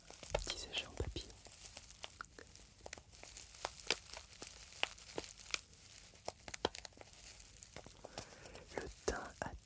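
Dried thyme crinkles and rustles inside a small paper bag with soft, close, irregular crackles and crisp tearing-like bursts. A whispering voice runs over the handling.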